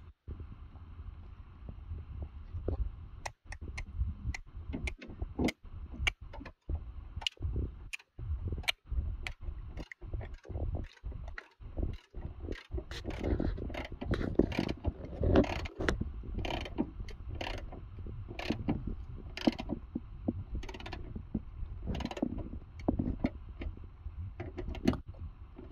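Screws are driven into the hood hinge of a 2004 Mitsubishi Lancer ES, a rapid series of close ratcheting clicks and mechanical bursts repeating for most of the stretch, with some wind noise behind.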